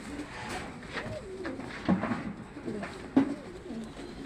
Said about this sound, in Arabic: الحمام ده لسه صغير في السن يا جدعان